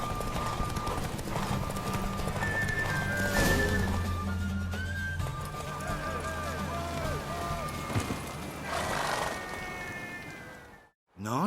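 A mare gallops in a race in The Witcher 3: Wild Hunt, her rapid hoofbeats drumming steadily and close for the whole stretch, with faint whinnies mixed in before the sound cuts off abruptly at the end.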